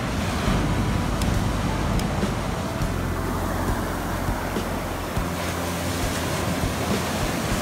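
Ocean waves on a beach in Goa, a steady rushing wash of surf with wind buffeting the microphone, continuous and fairly loud with no voices.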